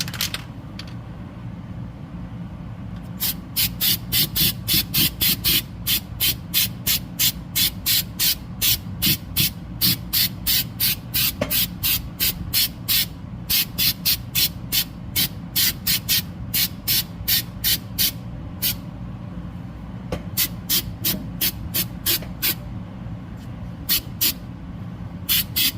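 Repeated short bursts of spray paint hissing onto the suspension of a 1965 Mustang, close and crisp, in a rapid irregular rhythm of quick pulses with a few pauses, over a low steady background hum.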